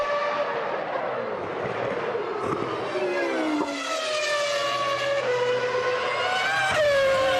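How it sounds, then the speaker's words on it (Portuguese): Formula 1 race cars in a replay of a close battle between two drivers, high engine whines sweeping and shifting pitch as they pass, loud and continuous without talk. "Nesse replay a gente vai ver um pega acirrado entre Ricardo Zonta e Alessandro Zanardi."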